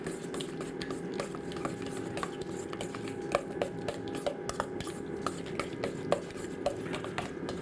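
A knife chops a dill pickle inside a mixing bowl, with a quick irregular run of light taps and scrapes from utensils against the dish.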